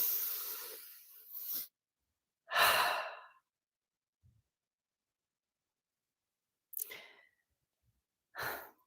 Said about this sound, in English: Hold up, let me breathe.